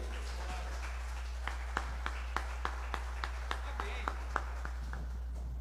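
A church congregation claps in a steady rhythmic beat, about a dozen sharp even claps over a constant low hum, moderately distant and fairly faint.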